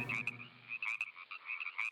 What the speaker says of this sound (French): La grenouille verte est la plus courante en Europe